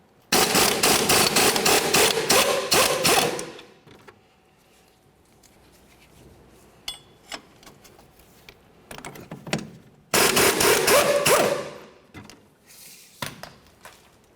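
A 19mm wrench and socket loosening mounting bolts on a 2004-2006 Scion xB front suspension, heard as two loud bursts of rapid ratcheting clicks with quieter tool clinks and taps between them.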